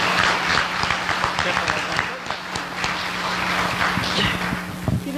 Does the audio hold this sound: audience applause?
yes